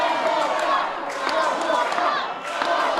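A wrestling crowd cheers and roars throughout, loud and sustained, with swells of whoops and shouts.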